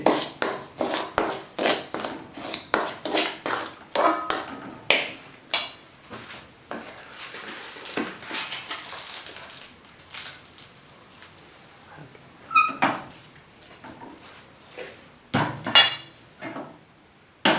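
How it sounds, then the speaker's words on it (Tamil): Cardamom pods are pounded to crush them, producing a quick series of sharp taps and knocks, close and loud at first, then sparser hits with a few louder clanks. "இந்த ஏலக்காயை நீங்கள் தட்டிடுங்க"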